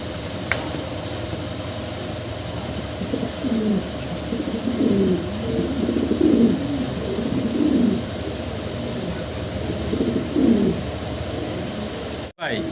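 Large fancy pigeons coo in a repeated series of soft, throaty calls close by, over a low background hum, with a voice speaking at times.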